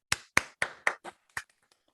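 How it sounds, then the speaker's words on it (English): A small group gives a thin round of applause for Yusuf, a teacher at an AI camp, about six distinct claps then a few scattered ones, close and quiet, fading out quickly. "can we give Yusuf a round of applause, guys?"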